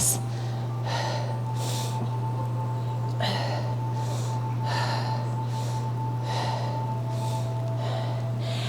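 Deep breaths in a beginner yoga class come as repeated slow airy inhales and exhales, about a dozen soft bursts over a steady low hum.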